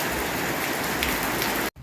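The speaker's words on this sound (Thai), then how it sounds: "ฝนตกหนักเลย" Heavy rain pours steadily at night while camping in a forest, in a dense, loud hiss, then cuts off abruptly near the end.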